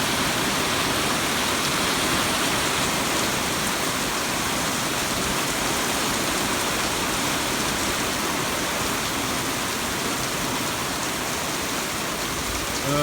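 Steady rain falls across an open cattle pasture beside a hayfield, a dense, even hiss that holds constant and close for the whole stretch with no voices.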